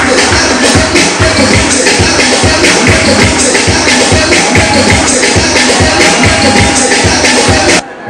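Dense, loud applause from an audience at a Chicago film premiere as a woman makes her entrance, a steady roar of clapping that holds for about eight seconds before briefly dropping off at the end.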